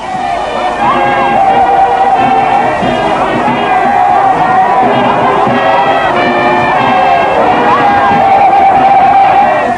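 Jubilant crowd in Lomé celebrating Togo's independence before the independence monument, a loud steady mass of cheering and shouting voices with higher calls rising above the din, continuous and close.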